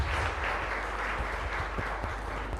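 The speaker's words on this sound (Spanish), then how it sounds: "Fuerte aplauso para la comunidad entonces." Applause from a church congregation for the community during a Sunday mass at the chapel of Santo Domingo de Guzmán, a steady, fairly faint wash of clapping that fills the whole stretch.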